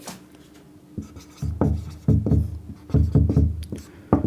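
A pen scratches across paper in short, irregular strokes, close up and fairly loud, with brief pauses between bursts of writing.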